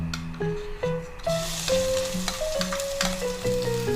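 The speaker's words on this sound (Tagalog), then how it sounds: "Tapos after nyan, lagay na natin yung yung bawang." Garlic sizzles in hot frying oil, a loud steady crackle close by, broken by occasional stirring clatter and faint tonal hums in the background.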